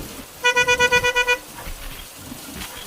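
A vehicle horn sounds a quick series of about eight short rhythmic toots on a rural road, loud and close, followed by engine rumble and faint background noise.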